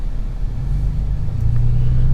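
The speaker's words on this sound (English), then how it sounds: "God, I fucking hate traffic." Road traffic rumbles loudly and continuously, a deep engine drone that swells slightly toward the end, with no voices.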